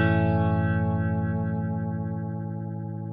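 A NUX Roctary rotary speaker pedal set to its slowest speed colours a sustained, distorted chord with a gentle, slow swirling pulse as the tone gradually decays over a few seconds.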